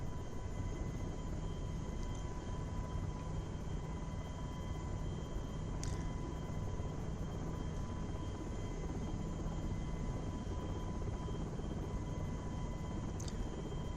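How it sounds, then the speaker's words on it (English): A helicopter flying in Microsoft Flight Simulator X / Prepar3D gives a steady, loud engine and rotor drone with faint whining tones that holds evenly throughout, with no talk over it. "I'm terrible at flying these helicopter things"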